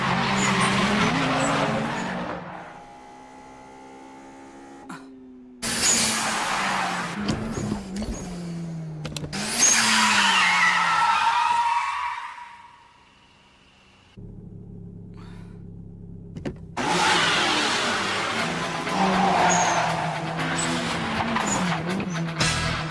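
Turbocharged Toyota 86 cars race along a narrow road, engines roaring loud and near with tyres squealing and skidding in repeated bursts, separated by brief quieter gaps as the cars pass.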